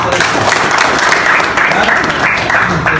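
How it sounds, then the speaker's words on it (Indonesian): Classroom applause from students in an Indonesian lesson, a steady dense patter of many hands clapping at close range, holding evenly for the whole stretch with no pause. "Oke, beri tepuk tangan."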